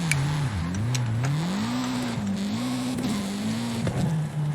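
A car engine in Forza Horizon 5 revs steadily on a drag strip, its pitch rising and dropping repeatedly with each gear change, loud and continuous with no voices.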